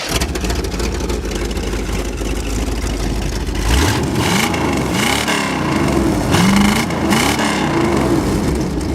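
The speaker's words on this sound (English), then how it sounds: "Gotta have an exhaust leak yet." A Corvette engine with an exhaust leak idles loudly, then revs several times in rising and falling sweeps, giving a rough, raspy, close-up roar.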